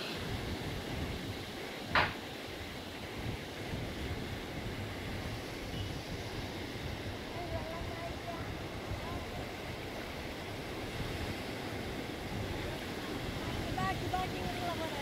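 Sea waves washing onto a beach during a festival trip, a constant broad rushing roar with wind buffeting the microphone and one sharp knock near the start.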